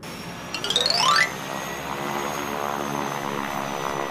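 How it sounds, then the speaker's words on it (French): An airplane sound effect in a children's vocabulary song starts with a quick rising chime-like sweep and then settles into a steady, even engine drone. "L'avion."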